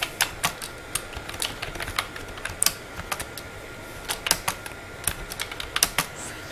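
Rapid bursts of keystrokes on a computer keyboard, close and fairly crisp, with irregular rhythm and short pauses between clusters of taps, no voices.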